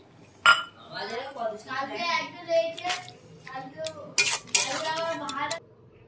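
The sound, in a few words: pots and utensils clinking while cooking potol alu posto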